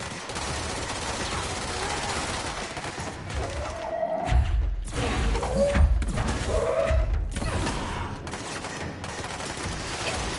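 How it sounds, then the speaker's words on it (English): Gunfire in the video game Control: rapid bursts of shots and thuds mixed with low impacts and whooshing effects, moderately loud over a steady ambient game background, with no talk. "Who's shooting at me?"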